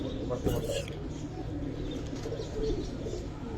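Pigeons at a Bangladeshi pigeon farm selling silver Giribaz and colored breeds, soft cooing and bird calls running steadily through background chatter and farm noise, with a brief louder flutter near the start.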